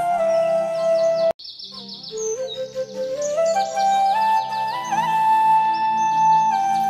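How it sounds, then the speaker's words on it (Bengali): Birds chirp and tweet in a rural Bangladeshi village with trees, a mix of overlapping whistled calls and trills, fairly close and continuous, with a steady insect drone beneath and a brief silent gap near the start. "ঝিঝি পোকার শব্দ, পাখির কিচিমিচি আওয়াজ"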